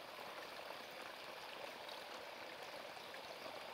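A waterfall gives a steady, broad rushing roar of falling water, constant and unbroken throughout with no voices.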